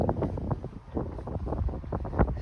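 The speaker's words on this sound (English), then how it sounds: "Ooh, it's a little bit windy out." Gusty wind buffets the microphone on an early spring hike through a creek valley, low rumbling bursts rising and falling close up with no voices.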